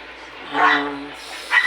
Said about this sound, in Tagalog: maingay ang aking aso kasi may mga tao dumadaan